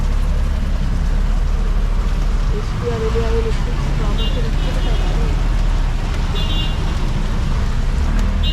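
Constant loud engine drone and road rumble fill a ride in an auto rickshaw on a road, with a couple of short horn toots and people talking throughout.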